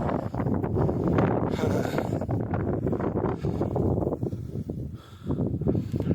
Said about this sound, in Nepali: यति हाइटमा यस्तो हावा सुनिरहनु भयो होला तपाईँले